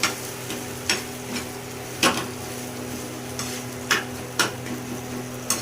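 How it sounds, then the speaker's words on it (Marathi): Amboli flower chutney is stir-fried in a pan, a constant close sizzle broken by sharp, periodic scrapes and clicks of a spatula against the metal every second or so. "अशी परतायची छान."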